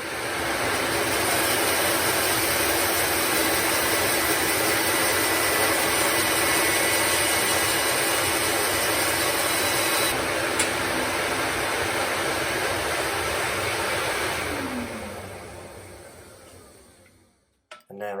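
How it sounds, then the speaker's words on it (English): A workshop dust extractor runs with a steady, loud whooshing roar for about fifteen seconds, then winds down with a falling whine and fades to quiet. "That's me switching on the dust extractor"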